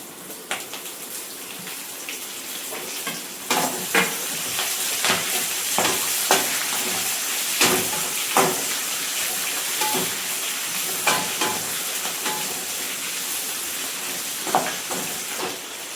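Dried red chillies frying in hot oil in a pan for pirandai thokku give a steady, close sizzle and crackle throughout, with repeated scraping and tapping of a stirring spoon against the pan and no voices.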